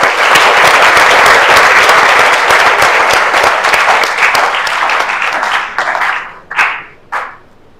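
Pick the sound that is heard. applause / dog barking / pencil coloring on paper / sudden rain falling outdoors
applause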